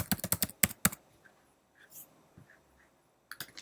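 A password is typed on a computer keyboard in two quick bursts of crisp, close key clicks separated by a short near-silent pause with faint rustling.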